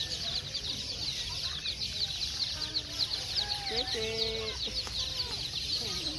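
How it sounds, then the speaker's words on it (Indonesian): Colourful chickens clucking at a busy bird market, with short clucks and calls rising over steady crowd noise and someone talking briefly nearby. "Ayam warna-warni guys."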